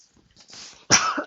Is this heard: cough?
yes